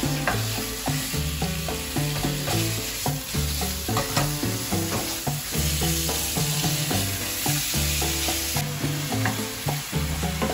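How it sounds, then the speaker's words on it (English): Steak strips and garlic are fried in a hot wok for a low-carb diabetic dinner, making a loud, continuous close-up sizzle with rapid, rhythmic clatter and scraping from constant stirring. "basically just fry it all up"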